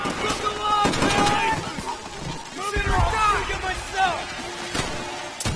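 Enemy soldiers' gunfire during a banzai charge in World at War, a video game: repeated sharp shots and bursts crackle amid shouting and a busy battle din, with the charging troops yelling close by.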